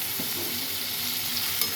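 Dried fish crackles in hot oil in a pan, a short, close, continuous hiss of frying with a soft stir or two and no voices.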